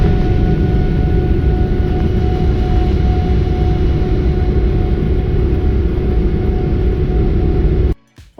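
Inside the cabin of a Singapore Airlines Boeing 777 taxiing to the runway, a loud, steady engine rumble and broadband roar with faint tonal hums that cuts off abruptly at the end.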